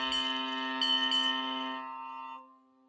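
Ship horn and bells sounding at a San Francisco port in the Sailing Freight Ships video game, a steady tonal blast with ringing bell overtones that holds for about two seconds, then fades out.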